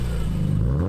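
A BMW E46 M3 with its S54 engine and aftermarket Supersprint exhaust revs up, giving a loud, close, deep droning exhaust note with steady low rumble and a slight rise in pitch toward the end.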